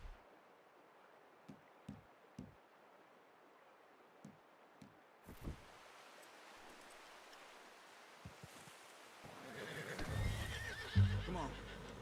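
A faint horse whinny and scattered hoof clops sound in a quiet outdoor setting in Red Dead Redemption 2, with soft rustling rising toward the end.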